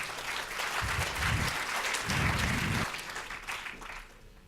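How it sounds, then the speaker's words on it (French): An audience breaks into applause at an editorial prize ceremony, the clapping steady and fairly full before tapering off toward the end. "Sous vos applaudissements, André Grimaldi."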